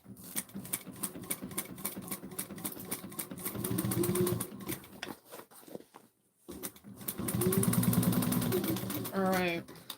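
A sewing machine basting a bowler bag runs in two sustained bursts of rapid stitching, fairly close and moderately loud, separated by a pause, with some handling noise around it.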